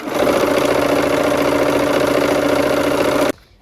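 A sewing machine runs continuously, stitching quilt squares together into a four patch, a steady close mechanical hum and rapid whir lasting about three seconds before cutting off abruptly to near silence.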